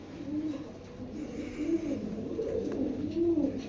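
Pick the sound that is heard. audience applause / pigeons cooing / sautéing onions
pigeons cooing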